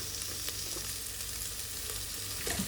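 Sliced onions sauté in a pressure cooker for chicken biryani, giving a steady close-up sizzle and frying hiss with faint stirring scrapes and no talk.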